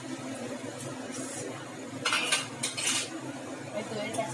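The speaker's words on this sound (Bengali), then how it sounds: "নাড়িয়ে নিচ্ছি।" Dahi chicken is stirred in a pan, with a metal utensil scraping and clinking against it in a few quick bursts over a steady low sizzle close at hand.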